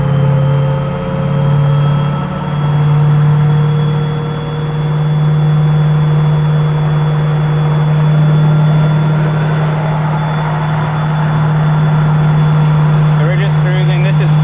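A supercharged 427 LS engine in a 1969 Chevelle cruises in fifth gear around 2,500 RPM, a steady low droning hum inside the cabin with gentle swells, heard under people talking.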